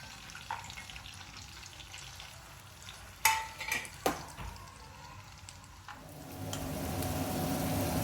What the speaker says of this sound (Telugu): ఇప్పుడు ఈ ఆయిల్లోనే ఆనియన్స్ వేసుకున్నాము